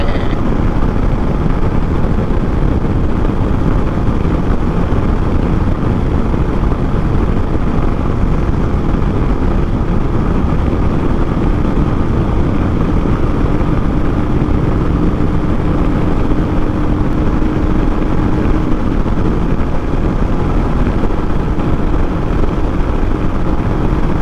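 A Royal Enfield Himalayan motorcycle is ridden on the road. Its engine makes a loud, unbroken drone with rushing wind noise that holds steady the whole time, and no one speaks.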